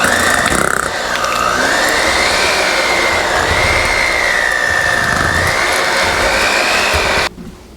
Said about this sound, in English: with the hand mixer